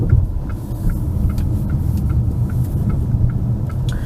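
Chery Tiggo 5X rolling over a potholed street, heard from inside as a steady low rumble of road and tire noise with faint soft knocks, no talking.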